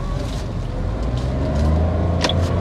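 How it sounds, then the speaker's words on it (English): A Toyota Urban Cruiser Hyryder strong hybrid SUV's engine running steadily as a low, continuous hum close by, with road and wind noise around it. "You can hear the engine sound. It's audible. Now the engine starts working."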